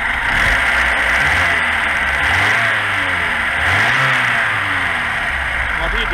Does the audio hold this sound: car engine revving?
yes